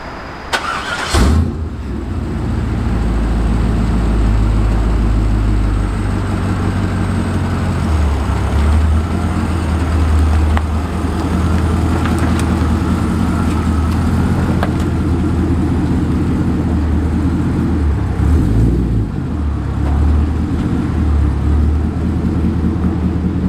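A supercharged 450 hp 2000 Chevrolet C5 Corvette fires up with a sharp crank and catch, then settles into a loud, deep, close idle with occasional revs rising and falling throughout.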